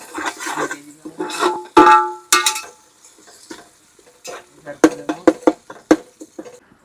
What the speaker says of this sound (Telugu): కలిపేసుకొని ఉల్లిపాయలు అయితే గోల్డ్ కలర్లోకి వచ్చేసినాయి